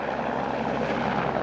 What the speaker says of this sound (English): The chopper climbed into the brisk winter air, blades thrumming as it cruised south across the Salt Lake Valley.